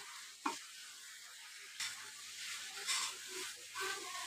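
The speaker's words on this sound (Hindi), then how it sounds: "अब इसको अच्छे से हम भून लेंगे" Potatoes stirred in a pan while roasting, a soft steady sizzle broken by a few scraping stirs of the spoon; quiet and close, with no talking.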